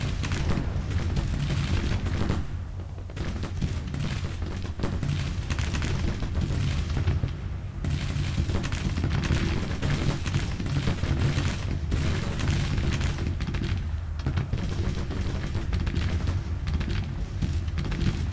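Dense, continuous battle roar of rifle volleys and booming artillery fire in an American Civil War strategy game, loud and unbroken throughout with only brief dips.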